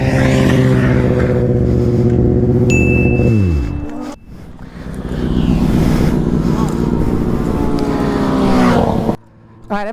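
A motorcycle engine revving hard through a wheelie on a closed course: a loud, sustained high whine that drops off abruptly, then builds again under speech before cutting out near the end.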